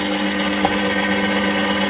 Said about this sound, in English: Let's go 500 RPM. Let's see. Drill a little hole here.